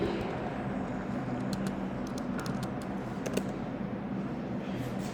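Computer keyboard keys are tapped in quick, faint, irregular clicks over a steady background hum, with no talking.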